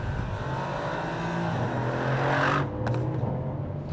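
A 2017 Mercedes-Benz C63 AMG V8 pulls steadily under acceleration, a low sustained engine drone heard from inside the car that swells and then eases off near the end.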